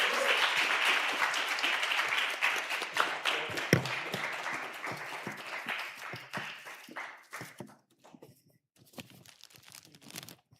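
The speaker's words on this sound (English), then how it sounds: "Okay, applause" Audience applause after a public thesis defence in an informatics department, a dense round of many hands that starts strong, then thins out into scattered individual claps before fading away.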